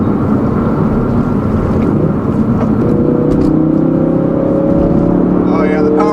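A 2016 Ford Focus RS pulls hard in fourth gear, its loud, steady engine drone rising in pitch under constant road and wind noise.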